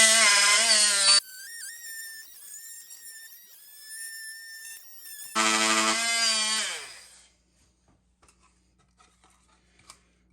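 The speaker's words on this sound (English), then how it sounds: "what I have here is my multi-tool, or oscillating tool, whatever you want to call it" An oscillating multi-tool cuts the tabs off an electrical outlet box during a GFCI replacement, giving two loud, high buzzing bursts of about a second each with a quieter whine between them, then near silence.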